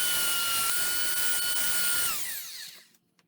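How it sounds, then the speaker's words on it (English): Vintage Ryobi BE318 belt sander working a rough wooden board, a loud steady high-pitched motor whine that winds down in falling pitch and stops, leaving near silence with a couple of faint knocks. "finally finished sanding the board"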